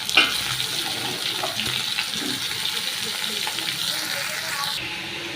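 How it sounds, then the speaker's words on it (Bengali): Cut and washed bitter gourd and potato fry in a pan with a steady, hissing sizzle, close and moderately loud. Occasional stirring knocks and a trickle of running water sit underneath. "এবার কেটে ধুয়ে রাখা উচ্ছে আর আলুটা দিয়ে দেবো"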